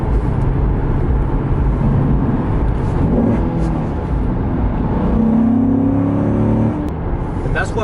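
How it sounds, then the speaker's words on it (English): A car with a seven-speed manual transmission and rev matching drones loudly and steadily from the cabin, its engine note rising and falling as the gears shift, without pause. "every time you move the car to a certain gear, the RPMs just rev up for you"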